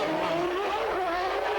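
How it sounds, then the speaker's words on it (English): Formula 1 cars at the 1992 Monaco Grand Prix, including the V10 Renault-engined Williams and the V10 Honda-engined McLaren: a steady, high-pitched engine wail with rising and falling revs, loud and continuous, with no talk. "It's the V10 Renault engine, Williams leading the V10 Honda engine McLaren of Ayrton Senna"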